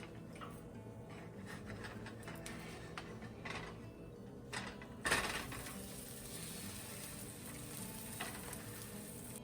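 A keto grilled cheese sandwich cooks in a pan with a steady, faint sizzle and a brief louder burst partway through, with no talking.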